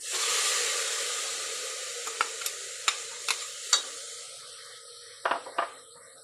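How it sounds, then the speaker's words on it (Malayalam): Onions and tomatoes sauté in a pan for chicken shorba, with a hissing sizzle that gradually fades and several sharp scraping stirs spaced out, ending in a quick cluster of clinks, close and alone. "ഉള്ളിയും തക്കാളിയും ഒക്കെ നല്ലതുപോലെ സോട്ടായിട്ടുണ്ട്"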